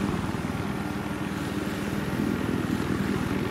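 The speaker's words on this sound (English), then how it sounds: "I can hear a helicopter." A helicopter in the Battlefield 3 video game drones steadily with a low, pulsing rotor beat and engine hum, moderately loud and continuous, with no talk over it.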